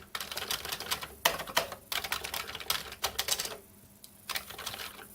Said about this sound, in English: the blue switches that I have here are much more loud, and they are louder than your common keyboard anyway.